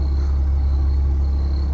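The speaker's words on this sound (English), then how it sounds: "that's what that noise is back here, because you got a rear engine." Rear-mounted diesel engine of a 1998 Monaco Dynasty motorhome idling, a steady loud low rumble heard from inside the rear bedroom, continuous and unchanging with no talk.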